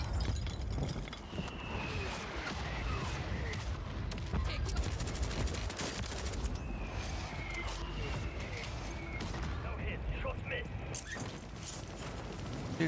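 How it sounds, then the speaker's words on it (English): Mortar strike in the video game Call of Duty: Warzone, a sustained rumble of blasts and scattered gunfire mixed with mechanical clanks, heard under ongoing speech. "Mortar strike on the way."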